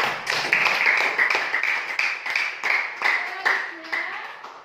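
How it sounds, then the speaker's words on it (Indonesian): A classroom of students claps together in quick, steady, fairly loud applause that fades near the end. "marilah kita beri aplaus untuk kita semua dulu"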